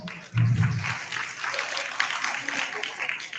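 A ceremony audience applauds at an awards event in the province, a steady dense wash of clapping swelling in after a brief pause and sustaining at moderate loudness over a low hum.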